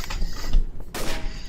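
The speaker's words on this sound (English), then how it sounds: "I'm having a sniper battle with him." Sniper rifle gunfire in the video game Trouble in Terrorist Town, loud close shots in quick succession, with a sharp blast near the start and another about midway.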